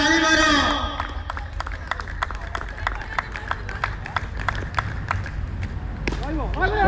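Hands clapping at a night cricket match, a run of sharp, evenly spaced claps at moderate distance over outdoor crowd noise, with voices calling out at the start and end.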